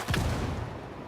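A single close gunshot booms in Ghost Recon Breakpoint, a heavy thump with a short decaying tail.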